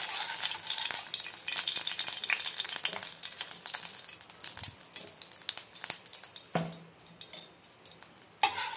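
Ghee sizzles and fries in a kadai while chakkarai pongal tempering is made, a continuous hissing crackle that stays close and loud, with a few sharper pops and stirring clinks toward the end.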